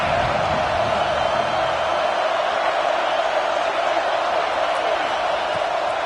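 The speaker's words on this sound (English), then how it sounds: "Decibels rising as the crowd gets behind this defense on 3rd down." Roaring stadium crowd in a football video game, a steady loud wall of noise building behind the defense on third down, with no breaks across the stretch.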